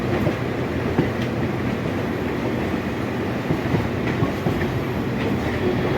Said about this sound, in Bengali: এটা হলো ট্রেন নাম্বার 12345 হাওড়া থেকে গুয়াহাটি সরাইঘাট এক্সপ্রেস